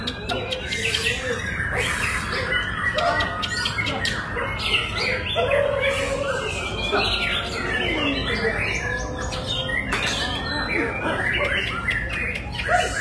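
Long-tailed white-rumped shama singing in a cage, a busy run of varied chirps, whistles and squawking phrases continuing throughout, fairly close, over a constant low background hum.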